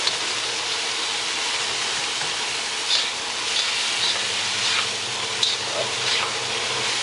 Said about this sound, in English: very quickly I'll just fry it in